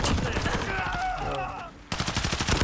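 Rapid automatic gunfire rattles in a first-person shooter game, an AK among the weapons, with loud continuous bursts broken by a short lull and talk mixed in.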